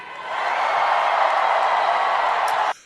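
A large crowd at a political speech in New York cheers and roars, a loud, dense, steady wall of voices that holds for over two seconds and then cuts off abruptly.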